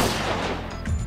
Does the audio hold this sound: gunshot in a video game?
yes